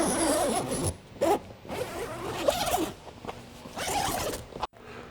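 A zipper pulled open in several long, rasping runs with short pauses between them, close up and fairly loud.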